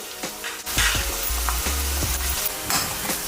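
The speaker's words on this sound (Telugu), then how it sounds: "చూసారు కదండి ఆనియన్స్ చక్కగా ఫ్రై అవుతాయి కదా" Onions and green chillies sizzle steadily in a pan for an Andhra-style fish curry, with repeated scraping stirs and utensil knocks close by, and no talking.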